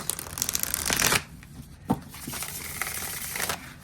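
A deck of matte tarot cards riffle-shuffled up close, a loud flurry of rapid papery flicks, a single sharp snap partway through, then a softer continued shuffling patter.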